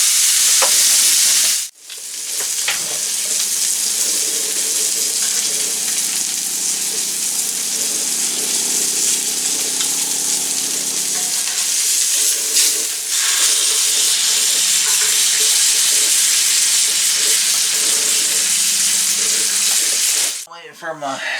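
Steak searing hard in a hot pan at a mountain hunting camp, a loud steady sizzle and hiss holding for the full stretch, briefly broken by a sharp disturbance near the start and a clatter at the end.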